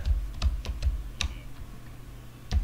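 Someone types on a computer keyboard while playing a game, leaving a handful of separate key clicks and taps at uneven intervals, close and fairly quiet with no talk.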